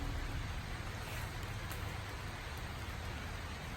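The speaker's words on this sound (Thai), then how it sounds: "ฝนก็เริ่มตกแรงแล้วนะฮะ" Heavy rain pours down in a dense, continuous hiss, drumming steadily on nearby surfaces.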